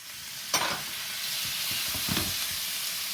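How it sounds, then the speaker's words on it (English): Fideo pasta toasts in a hot pan under a constant close sizzle, with scraping stirring strokes and light knocks against the pan. "Just keep on stirring it so the pasta doesn't get too dark"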